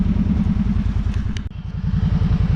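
Kawasaki Brute Force 750 ATV engine running steadily and loud up close, with a throaty pulsing exhaust throughout, a brief dip midway like a shift, then pulling on again.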